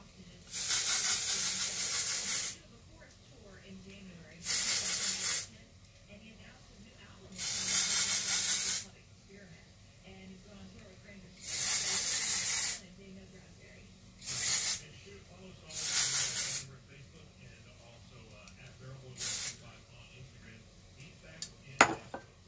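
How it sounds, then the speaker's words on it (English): Several bursts of aerosol dry shampoo spray hiss close up at the hair roots, each lasting a second or two, separated by quiet pauses with faint handling noises. "I am spraying my roots"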